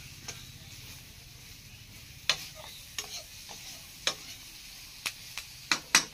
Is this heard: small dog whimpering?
no